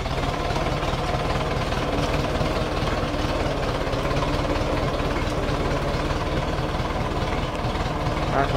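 A heavy diesel engine of a Zetor 6245 tractor idles steadily with a low, rhythmic knocking throb, constant throughout and fairly close.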